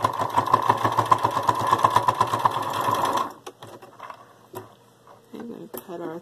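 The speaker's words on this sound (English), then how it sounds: "we're going to sew on our line" A sewing machine stitches a fabric bowl cozy in a loud, close, rhythmic buzzing run for about three seconds. It stops abruptly, followed by quieter handling clicks and brief talk.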